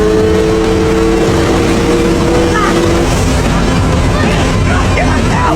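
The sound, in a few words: speedboat accelerating at full speed in film chase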